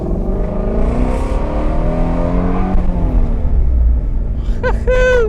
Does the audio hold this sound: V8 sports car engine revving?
yes